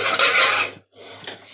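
A pressure cooker lid is pried open after cooking chole, giving a close, raspy metallic scrape that runs for most of a second, breaks off briefly, then returns more softly.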